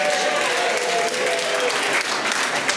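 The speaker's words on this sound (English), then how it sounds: "so give yourself a round of applause" A comedy-show crowd in Multnomah County claps loudly in a dense, continuous wash of applause, with scattered cheers mixed in throughout.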